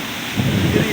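Strong typhoon Kristine wind roaring and buffeting close by, a steady broadband rush that swells louder partway through, with a faint voice in the background.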